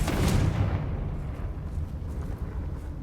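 A Confringo spell blast in the Hogwarts Legacy video game: one loud booming explosion at the start that rolls off into a long rumbling decay, alone without speech.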